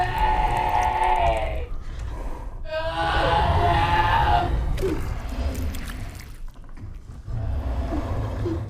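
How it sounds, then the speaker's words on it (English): Eerie screaming creature cry, the bear scream sound effect from the horror film Annihilation, with warbling, voice-like howls rising and fading in long waves over a dense rumbling bed, loud and continuous with no talk. "the bear scream haunts his dreams"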